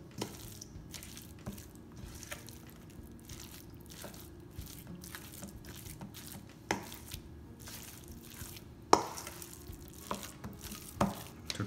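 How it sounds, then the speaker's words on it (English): A vegetable patty mixture with added salt being mixed by hand in a bowl gives soft, steady squishing and scraping, with occasional louder clicks and knocks against the bowl, all without any voices. "I'm going to mix this again."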